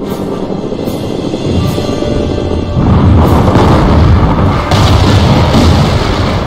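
Heavy artillery fire in Company of Heroes pounds a forward base, loud deep booms over a rumbling roar that swells and stays thick and intense, with no talk.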